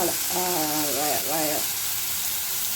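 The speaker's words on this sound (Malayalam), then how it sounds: "ഇതൊന്ന് ഉള്ളി വഴറ്റാം നമുക്ക്" Onions sauté in a hot pan for a North Indian-style thuri masala, with a loud, continuous, close sizzle throughout while a voice briefly talks over it.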